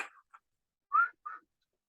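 A breathy whistle made by exhaling through pursed lips, two short puffs with a gap between them, close and faint, preceded by a brief breathy sound.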